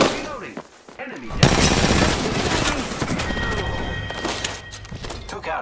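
Rapid bursts of gunfire in the Apex Legends video game, loud and close, with repeated volleys and impacts crowding the clip and voices audible between shots.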